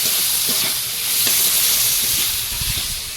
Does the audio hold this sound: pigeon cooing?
no